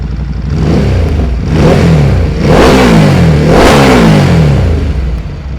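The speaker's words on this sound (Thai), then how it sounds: "คันนี้ฟังเสียงท่อแอโร่กัน" A Ducati Hyperstrada motorcycle fitted with an aftermarket exhaust revs loudly nearby, its engine note rising and falling through several throttle blips with no talking.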